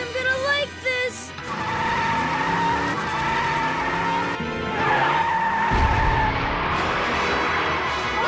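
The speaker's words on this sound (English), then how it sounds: "We got the engine running again." A cartoon school bus engine roars continuously while its tires skid and squeal, loud and close, with music and effects layered over the whole stretch.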